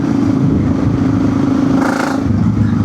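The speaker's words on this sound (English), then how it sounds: "Here's a 650 thumper. It sounds alright." A BMW G650GS Sertao single-cylinder 650 motorcycle fitted with a GRmoto exhaust thumps loud and close in a continuous low engine rumble with a brief rise near the end.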